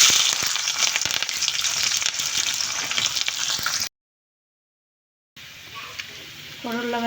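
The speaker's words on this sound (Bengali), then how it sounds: "করলা ভাজি করে নেব।" Bitter gourd slices frying in hot oil, a dense crackling sizzle that runs steadily for several seconds, cuts out briefly, then returns softer, with brief clinks and a short voice near the end.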